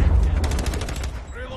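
Video game gunfire rattles off in a rapid burst of about ten shots aimed at a VTOL aircraft, loud and close, over a low rumble of game noise and faint background chatter.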